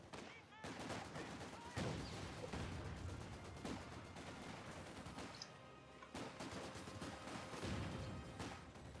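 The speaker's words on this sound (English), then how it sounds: "Nice incendiary grenade on the trench," Incendiary grenade landing on a trench in Company of Heroes 2, a burst of fiery crackle amid dense, continuous gunfire and machine-gun bursts with repeated sharp impacts over a busy battlefield bed.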